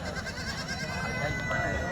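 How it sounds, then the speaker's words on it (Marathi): A native Osmanabadi goat bleats at a busy goat market in Purna, Parbhani district, Maharashtra, its calls mixed into continuous nearby talking and crowd noise. "समोर मित्रांनो खूप चांगल्या क्वालिटीची गावरान शेळी आहे"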